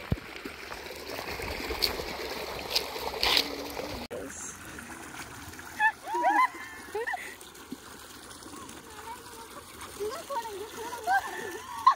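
Water splashing and sloshing in a stream in the Amboli hills of Konkan, heavier bursts at the start, then lighter trickling and splashes under excited voices and chatter.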